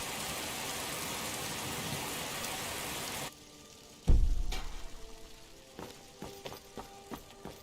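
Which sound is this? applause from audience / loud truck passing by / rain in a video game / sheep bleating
rain in a video game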